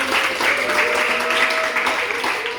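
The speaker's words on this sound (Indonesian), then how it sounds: "Tepuk tangan dulu lah untuk awalnya dulu." An audience at a local-wisdom speech competition gives a short round of applause, a steady close wash of clapping with a voice audible underneath.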